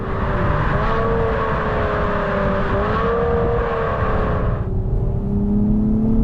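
A 2024 Acura TLX Type-S with all-wheel drive powers out of a turn: a loud, steady engine roar with rising tonal harmonics and tire noise, sustained throughout, shifting pitch near the end.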